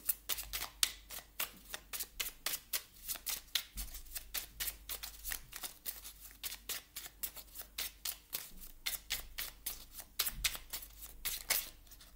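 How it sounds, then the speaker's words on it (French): A Petit Oracle de Merlin card deck is shuffled by hand in a long run of quick, crisp riffling snaps, close and fairly quiet, with no talk. "Je vais aller vous chercher maintenant une carte du petit oracle de Merlin"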